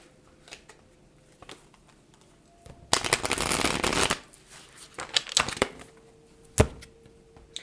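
Tarot cards are riffled and shuffled, with light flicks and taps scattered through the clip and one dense, loud burst of shuffling in the middle, heard alone without any talk.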